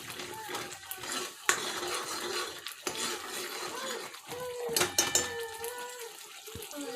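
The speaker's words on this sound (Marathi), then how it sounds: "आता यात बिर्याणी मसाला टाकून घ्या आणि एक चमचा मटन मसाला आणि ते व्यवस्थित परतून घ्या" Biryani masala and mutton masala are stirred and fried in oil in a pan for an egg curry. A spoon clinks and scrapes against the metal in irregular bursts over a soft sizzle.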